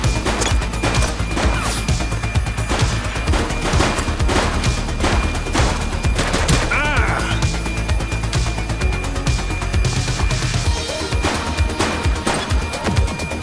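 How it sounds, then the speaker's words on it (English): Loud, rapid gunfire in The Precinct, with a suspect shooting during a police shootout, packing dense bursts of shots and crashing impacts that run continuously, with a brief tonal blip midway. "He's shooting!"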